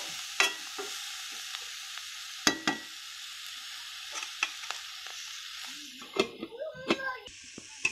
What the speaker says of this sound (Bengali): আমি আবার একটুখানি ভেজে দেব।